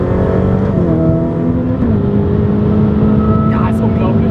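A Ferrari F8 Tributo sports car engine revs steadily and loudly, its pitch climbing and holding, with a voice speaking over it throughout.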